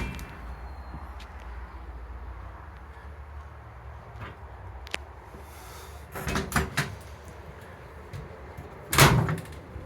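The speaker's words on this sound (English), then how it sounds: "you can just slam the door shut" The long door of a Sprinter van truck body, held up by a single spring, swung down and slammed shut: a few clattering knocks, then a loud, close bang near the end, with no speech.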